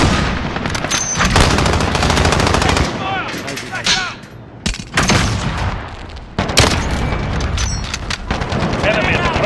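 Rapid automatic gunfire and heavy blasts from a Call of Duty match fill the scene in loud, dense bursts, with players shouting over the shooting.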